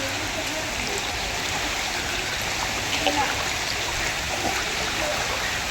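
Heavy rain falls at night around 1 a.m. in Nagaland, a dense, steady wash of hiss with no breaks, and faint voices murmuring beneath it.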